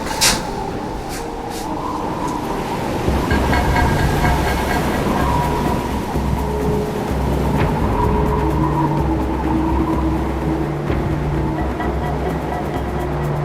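A full gale of 40 to 45 knots blows over a storm-bound camp in Hecate Strait off Haida Gwaii, a loud, constant low roar with brief sharper gusts and rattles, with no voices.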